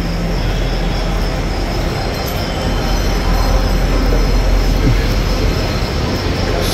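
A train rolls along rails in India, a loud continuous rumble of wheels with metallic rattling and faint squeal, heard close up and steady throughout.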